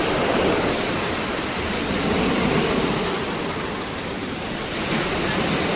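Ocean waves break and wash onto a beach beside a campground, a loud, continuous surf roar with a gentle swell and dip in intensity and a touch of wind, with no talking.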